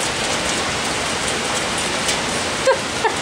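Steady rain in Toronto, a dense, even hiss of falling rain close by that continues throughout without a break, with a couple of faint clicks near the end.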